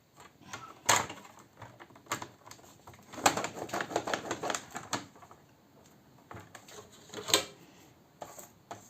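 Paper being folded and creased by hand for a craft project, with irregular crisp rustles, scrapes and taps, close and fairly quiet.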